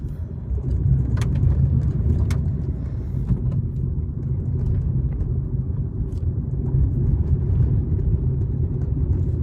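A car drives along a single-lane road, heard from inside as a steady low engine and road rumble with occasional faint clicks and ticks.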